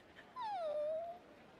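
A dog gives a single drawn-out whimper, a thin falling then level whine lasting under a second, fairly clear over a quiet background in an anime drama scene.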